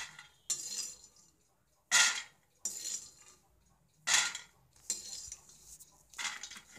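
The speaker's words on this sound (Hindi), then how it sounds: "भूनने के बाद भुने हुए ग्राउंडनट्स को एक बाउल में निकाल कर रख दीजिए।" Metal spoon scraping and clinking against a kadhai and bowl as roasted groundnuts are transferred, several short separate scoops with quiet pauses between, close and fairly soft.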